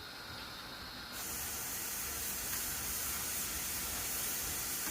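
Steady loud hiss of steam escaping a cooker while puttu cooks, a continuous close rushing spray that swells a little after the first second and holds without pause.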